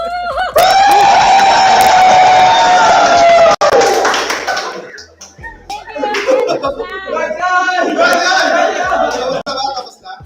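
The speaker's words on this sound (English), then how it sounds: "One more applause, one more applause." Loud crowd cheering and clapping erupt close by at a Philippine esports tournament, with high-pitched screams and whoops, fading into scattered claps and excited chatter.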